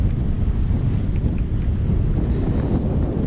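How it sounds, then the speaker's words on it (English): Loud, constant wind buffeting the microphone on a sailing boat off the Isles of Rum, with a deep roar, water and hull sounds mixed underneath and no voices. "it's got really windy, isn't it?"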